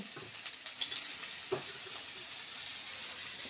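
Chopped onion fries in a little oil with a pinch of salt, giving a steady, close hiss of sizzling with a few soft stirring knocks and no voices.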